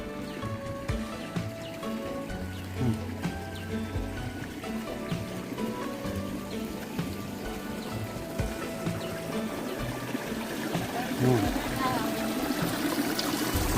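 Continuous trickling and splashing water from a gentle stream or small waterfall with low flow, steady and moderately close throughout.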